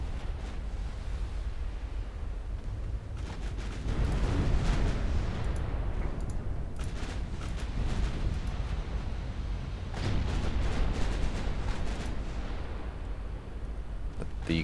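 Warships trading naval artillery fire in the naval strategy game Ultimate Admiral Dreadnoughts, with distant booming salvos and rumbling over a steady ocean-like wash, and heavier volleys around four and ten seconds.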